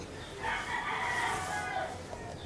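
A tornado hatch gamefowl rooster, about eight to nine months old, crows once in a long, loud, drawn-out call lasting about two seconds, close to the listener with no talk over it.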